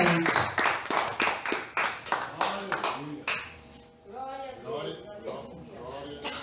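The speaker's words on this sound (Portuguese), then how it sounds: "Dê uma salva de palmas se você crê nisso" A congregation claps in quick rhythmic bursts during an evening church service. The sharp, roomy claps come in time for about three seconds, then fade as voices carry on.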